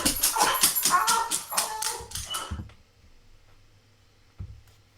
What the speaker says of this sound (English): it's like everything a dog should be, except the sound that comes out of it